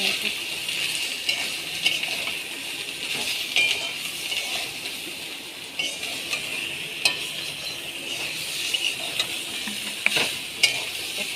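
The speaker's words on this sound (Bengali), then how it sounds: "হলুদ দেওয়া হচ্ছে এক চামচ হলুদ ভালো করে কষানো হবে" Spices and turmeric sautéed in a pan for a thin fish curry with green banana and papaya, giving a steady close sizzle with a spoon stirring and scraping and a few light clinks.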